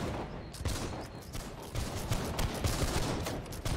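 Musket volley fire in the Holdfast: Nations at War video game, a dense, continuous crackle of many overlapping shots at varying distances that rolls on without pause.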